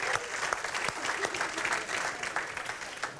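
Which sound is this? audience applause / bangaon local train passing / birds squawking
audience applause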